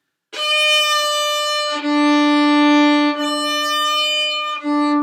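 A bowed string instrument sustains a high note while a lower note joins in and out, slightly off pitch and sour, loud and close.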